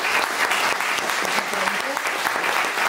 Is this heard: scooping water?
no